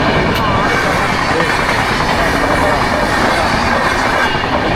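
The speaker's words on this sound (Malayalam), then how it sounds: "മൂന്നാമത്തെ ട്രെയിനാണ് മൂന്നാമത്തെ ട്രെയിൻ അങ്ങനെ കാണുന്നുണ്ടോ ഗായ്സ്" A train rolls past nearby in one loud, continuous rumble of wheels on rails that lasts throughout.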